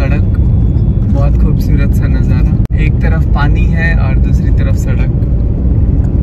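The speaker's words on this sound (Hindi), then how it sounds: "ट्रैफिक में हम लोग फंसे हुए हैं।" Car traffic on a narrow village road in India running beside water, a steady dense road rumble throughout with one brief sharp dropout midway, and a person talking over it much of the time.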